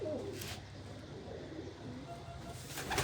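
Soft, low cooing of pigeons close by, with a faint rustle and a brief voice.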